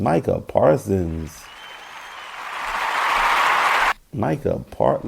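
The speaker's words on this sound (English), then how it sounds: "There's not enough applause for Micah Parsons" Crowd applause for Micah Parsons swells as a broad, rising wash of many hands and then cuts off abruptly, with someone talking just before it starts and again right after it stops.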